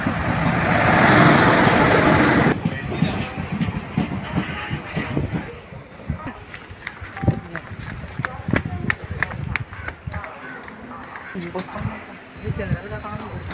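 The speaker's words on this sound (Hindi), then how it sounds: "ट्रेन आ रहे हैं" A train pulls into a station platform, loud rumbling and rattling wheels for the first few seconds, then quieter clatter and clanks while someone talks over it.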